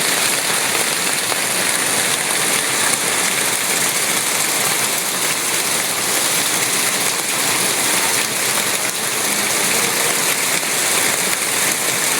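Heavy rain pours steadily in Jamnagar, Gujarat, a dense, even hiss of water striking surfaces that holds at a loud level throughout with no pauses.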